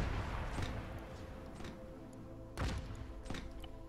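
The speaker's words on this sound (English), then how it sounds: "That sound you can hear is the grape shot." Grapeshot cannon fire in Arma 3 during an 18th-century battle, a series of dull thumping blasts and sharp cracks at irregular intervals, rather distant and faint over a low rumble.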